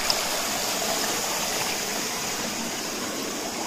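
Steady rushing flow of a shallow village stream where crabs are being caught, a continuous broadband wash of water close by that holds even throughout, with no talking.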